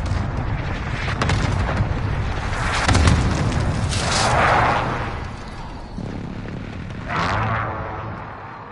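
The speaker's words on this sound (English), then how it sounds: "Be advised. Friendly precision airstrike inbound." Precision airstrike explosions in a military video game, a continuous barrage of loud, overlapping booms and rumbling blasts rolling on for several seconds, with bigger swells partway through and near the end, no voices.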